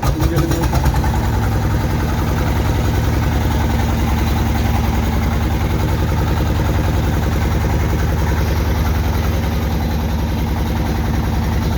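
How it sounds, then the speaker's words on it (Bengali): A river boat's engine on the Meghna at Bhairab ghat runs loud and steady close by, a continuous throbbing drone with no pauses and no voices. "আমরা আশুগঞ্জ ঘাটে যাব এখন নৌকা দিয়ে নৌকা স্টার্ট হচ্ছে"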